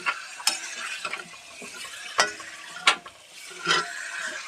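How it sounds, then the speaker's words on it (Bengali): Chicken pieces stirred with spices in a pot for curry, a soft moist sizzle broken by several distinct spoon scrapes and knocks against the pot at irregular intervals, close and moderately quiet, without talk. "মাংসটা আমি একসঙ্গে ঢেলে দিলাম না, অল্প অল্প করে দিয়ে নেড়ে নিলাম"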